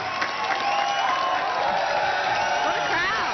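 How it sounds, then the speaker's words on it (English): An audience at a question-and-answer event with Congressman Paul cheers and whoops in a steady, loud crowd roar that fills the whole moment, with voices mixed into the noise. "What a crowd."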